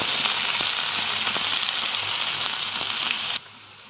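Onions sizzle and fry steadily in hot oil with cumin seeds in an Indian kadai, a dense continuous hiss with small pops and crackles, close and loud, cutting off abruptly near the end.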